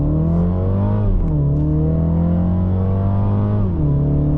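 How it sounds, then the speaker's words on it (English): A 2023 MINI Cooper Countryman S accelerating at full throttle, its engine droning loud and steady as the pitch climbs through each gear with two brief dips at the shifts, heard from inside the cabin with no talking. "So 3, 2, 1, let's go. Full throttle."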